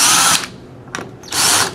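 A power drill with a 1/8 bit drills out the rear sight of an X7 gun in two loud, high whirring bursts. A brief spin-up comes between them, up close.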